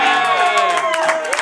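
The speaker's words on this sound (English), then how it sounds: "That's the biggest cheer of the night" A concert crowd cheers and whoops loudly and continuously at a show, a dense wash of voices with some sung or shouted tones rising above it.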